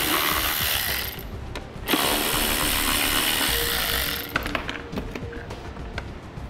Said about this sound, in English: Now we're gonna take the two screws out of the side of the taillight here that require the 8mm socket.